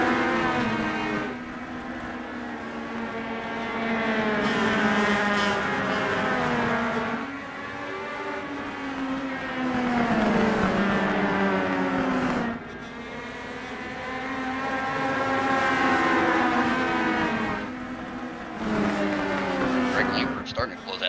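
Race cars roar around a short oval track at Hickory in a Legends car event, engine notes rising and falling in repeating laps as the pack passes, with a commentator talking over the steady racing noise.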